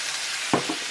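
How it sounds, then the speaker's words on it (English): A plastic fork gives a drink mixed with Coke a quick stir, making one brief scrape and clink over a soft, steady fizzing hiss. "Then I give it a little stir with a plastic fork."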